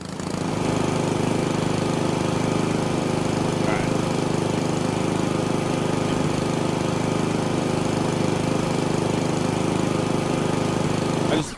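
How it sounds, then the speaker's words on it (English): A loud lawn mower engine drones steadily and close by for the whole stretch, a constant mechanical roar with no break or change in pitch. "I'm not even gonna bother try talking over the lawnmower. It's loud as fuck."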